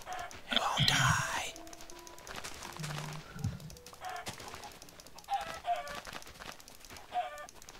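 Chickens cluck and crow in a blocky survival video game, with a loud burst early on and then scattered clucks and short calls at moderate distance, mixed with quiet whispery talk and game sounds.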